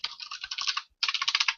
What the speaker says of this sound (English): What you typing?